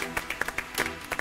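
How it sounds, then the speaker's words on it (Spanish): Studio audience on a TV talk show applauds guest Ana Rosenfeld with scattered, uneven claps that rise and fall over about a second, fairly quiet in the room. "El aplauso para Ana Rosenfeld."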